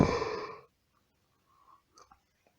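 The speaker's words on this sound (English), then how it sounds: "I have to yawn again" A man lets out a breathy yawn that trails off into a sigh, loud at first and fading within half a second, followed by near silence and a few faint small noises.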